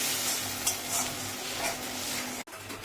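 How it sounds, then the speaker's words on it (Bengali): Masala of ginger, green chilli, garam masala, cumin powder, salt, turmeric and sugar is stir-fried in a pan, a continuous close sizzle with stirring scrapes, broken by one abrupt short cut. "মিষ্টি দিয়ে এবার ভালো করে কষাচ্ছে মা"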